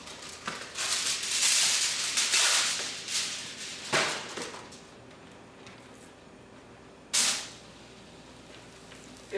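Salmon sizzles in a hot pan just pulled from the oven, a loud, steady hiss for about four seconds that fades to a quieter simmer, with another brief sharp burst of sizzle near the end.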